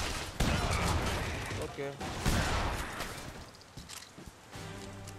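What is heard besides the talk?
gunfire from the video game The Saboteur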